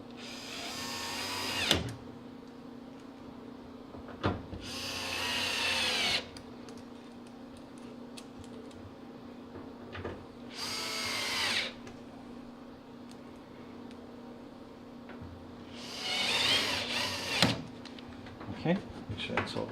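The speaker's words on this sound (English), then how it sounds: "we're going to put these 4 screws back in, and that is that weird Phillips head." A power drill whirs in several short bursts while driving Phillips head screws back into a GE dryer during a gas-to-propane conversion, with quiet pauses between runs.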